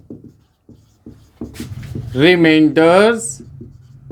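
Writing on a classroom board during a maths lesson, heard as short scratchy strokes at the start before a voice begins speaking over the quieter marks.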